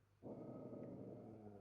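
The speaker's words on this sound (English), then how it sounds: "She's growling over there." A dog growls steadily and fairly loudly indoors after a brief quiet start, a low continuous rumble filling the rest of the moment.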